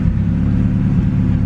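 A turbocharged Honda D16Z6 with a big HX35 turbo idles steadily, a loud, close, even low rumble with no talk over it.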